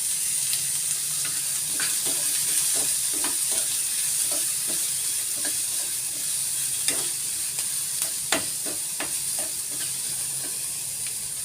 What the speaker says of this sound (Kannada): ಈ ಕರಿಬೇವಿನ ಸೊಪ್ಪನ್ನು ಮುರಿದು ಹಾಕ್ಕೊಳ್ತಾ ಇದ್ದೀವಿ